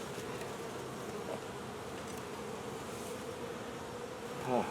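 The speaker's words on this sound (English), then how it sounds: "there'll be a lot of bees in here" Honey bees hum steadily inside a hive being fed in cold weather, a dense, continuous buzz close by, with a brief louder swell near the end.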